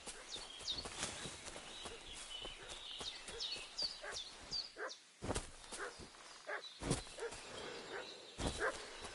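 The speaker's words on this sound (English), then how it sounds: "What's that dog making such a fuss about?" A dog in the video game Kingdom Come barks and fusses repeatedly amid outdoor game ambience, with footsteps and hoof-like clopping mixed in.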